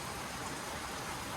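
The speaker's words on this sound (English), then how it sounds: "it is rainy today" Steady rain falls on a rainy day at a house under construction in the Philippine countryside, a soft, even hiss of drops lasting throughout with no talk over it.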